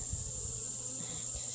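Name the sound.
honey bees buzzing at an opened hive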